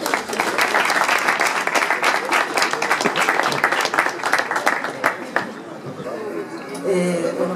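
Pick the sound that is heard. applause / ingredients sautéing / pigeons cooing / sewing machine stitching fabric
applause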